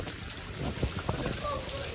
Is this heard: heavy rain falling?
yes